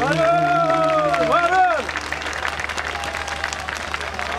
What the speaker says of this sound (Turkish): Alkışı hak ettiyse ne mutlu bize.